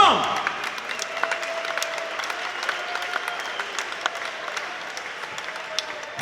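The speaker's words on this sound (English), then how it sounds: "Ladies and gentlemen, round of applause for both warriors this evening." Crowd applause rings out for two fighters after a 65 kg tournament bout, steady clapping with scattered sharp claps and cheers across the hall, lasting several seconds.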